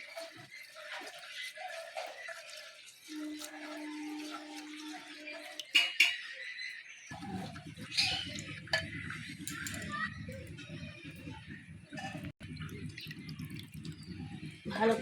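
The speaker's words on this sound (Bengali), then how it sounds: "ভালো করে 3 থেকে 4 বার ধুয়ে নেব।" Rice is washed in water in a pot, with soft sloshing, drips and trickling, then a louder swirling rinse that fills the second half. There are brief quiet stretches between.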